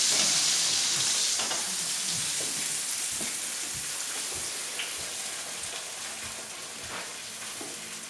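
Scallops sizzle in hot butter in a pan, a dense close crackling fry with scattered pops and spits, fading slightly over the stretch, without any voices.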